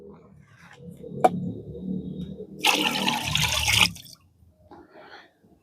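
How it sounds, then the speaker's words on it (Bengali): Water mixed with jaggery is poured out onto a plant in a steady, splashing stream lasting about a second, close by, with quieter handling noises before and a faint trickle after. "আর আমি এই জলটা পুরোটাই আমি এখানে ঢেলে দেবো"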